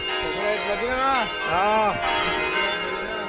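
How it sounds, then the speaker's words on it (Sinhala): Church bells ring in Bergamo's Città Alta, a sustained metallic tolling heard at moderate distance, with a wavering voice-like tone rising and falling over it. "සීනු ගහනවා"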